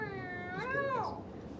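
A person imitates a cat with a drawn-out, rising then falling meow, clear and close, with no other sounds around it.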